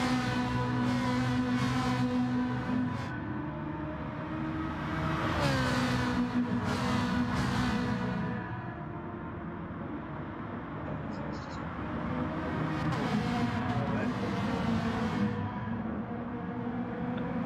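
Race car engine in a sim racing video game, revving steadily with rising and falling pitch as the driver short shifts, continuous and fairly loud under a commentator talking throughout.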